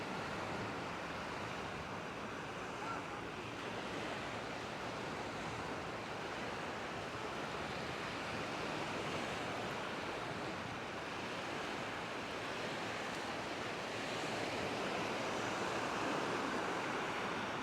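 Steady surf rolls onto the beach between Palm Cove and Clifton Beach, a constant broad wash of waves with some wind buffeting the microphone, continuous and fairly loud without speech.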